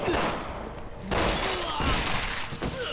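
Anti-matter rifle fire in the video game Resident Evil 6, heavy booming shots with gunfire blasts and crashing impacts over a dense game soundtrack, loud and close, with a sharp burst near the one-second mark.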